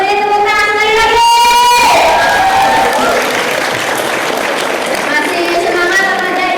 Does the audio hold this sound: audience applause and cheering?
yes